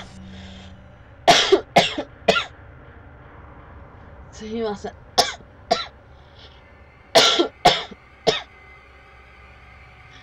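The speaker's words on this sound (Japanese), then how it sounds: "なんだか咳が強くなってきた。" A person coughs repeatedly in short bursts, several harsh coughs in clusters close to the microphone, with a brief spoken apology between them.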